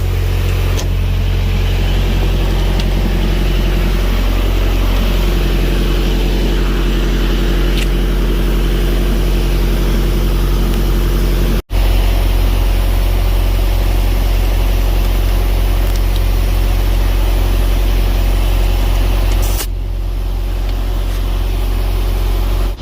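A tire inflator runs as a loud, steady droning motor hum while inflating a punctured, leaking tractor tire, with a sharp break near the middle before the drone resumes unchanged.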